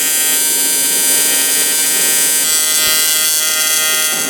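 An aluminum wheel being welded gives a loud, steady electric buzz and hum, close and continuous for the whole stretch.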